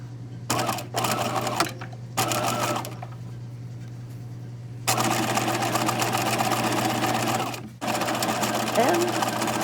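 A sewing machine runs down a seam on a rehearsal skirt in loud close bursts of rapid needle clatter, stopping briefly twice before a long continuous run, with a steady low hum beneath.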